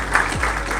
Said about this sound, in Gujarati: તરંગભાઈ જોશી માટે એક વખત જોરદાર તાળીઓ થઈ જાય.